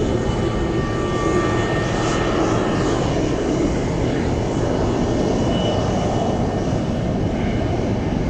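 F-22 fighter jets making an unrestricted climb out of Elmendorf, a loud, continuous roaring engine rumble filling the whole stretch without pause.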